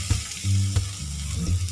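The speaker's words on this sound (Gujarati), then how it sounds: "ડુંગળી સાતરાઈ ગઈ છે. હવે આપણે ટામેટાં નાખીશું." Chopped tomatoes go into a pan of browned, sizzling onions, giving short bursts of frying hiss and a few spoon strokes against the pan, close and clear with no voices.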